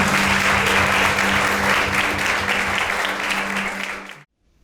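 A church congregation at a Pentecostal service claps loudly and steadily, sustained dense applause with a low hum underneath, cutting off abruptly near the end.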